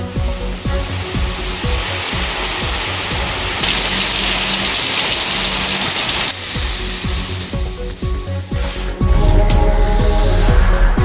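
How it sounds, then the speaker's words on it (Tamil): Heavy rain falling around Sirkazhi in Mayiladuthurai district, a steady loud broadband hiss that swells louder midway and again at the end, with no talk. "சீர்காழி சுற்றுவட்டார பகுதிகளில் கனமழை பெய்ததால் மக்களை குளிர்வித்தது."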